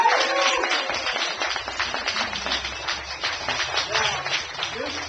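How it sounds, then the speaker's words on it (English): An audience applauds the kids at a band camp recital, a dense continuous round of clapping throughout, with a voice speaking briefly over the noise. "if we give all of the kids a round of applause"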